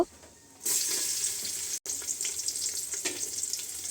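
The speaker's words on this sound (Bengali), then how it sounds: "সামান্য তেল দিয়ে তেজপাতা দিয়ে আর সামান্য জিরা দিয়ে বাগার দিয়ে নিলাম এবার এর মধ্যে পেঁয়াজ কাঁচামরিচ দিয়ে দিব" Onions and green chilies hit hot oil already seasoned with bay leaf and cumin, bursting into a loud, steady sizzle after a brief quiet start, with a momentary dropout midway and no talking.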